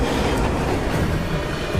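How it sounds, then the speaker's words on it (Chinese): A subway train roars loudly through a metro station platform in a movie scene, a dense and continuous rumble with no voices over it. "终于赶在地铁关门的一刹那冲上列车"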